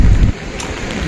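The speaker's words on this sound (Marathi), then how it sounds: "पाऊस चालू आहे." Rain falls steadily in Gokarna, Karnataka, a soft continuous hiss with a louder rumbling burst at the start before settling into an even patter for about a second.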